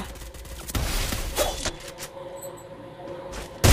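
Gunfire in the mobile shooter Free Fire Max during a one-tap headshot: sharp, loud synthetic shots and bursts crack out over a steady game background, with a final heavy blast at the very end.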